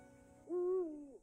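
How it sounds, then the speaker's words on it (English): An owl sound effect plays as a single clear, mellow hoot, held steady for about half a second before trailing off, alone and close. "It's an owl!"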